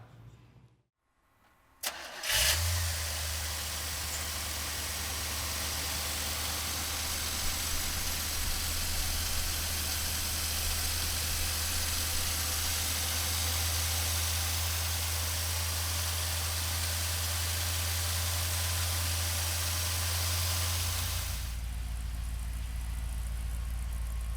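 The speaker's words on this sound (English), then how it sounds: "So come on up and we'll fire it up for you right now." A 1974 Chevrolet Corvette cranks briefly and fires up, then settles into a loud, steady, rumbling idle heard up close for about twenty seconds before the sound cuts off, with no talking.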